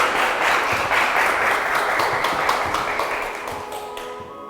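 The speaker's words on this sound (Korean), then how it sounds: "네, 박수로 맞아주십시오." An audience claps to welcome a professor onto the stage at a Korean lecture on communication skills, the dense applause loud and sustained before tapering off at the end.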